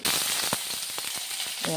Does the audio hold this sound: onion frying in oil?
yes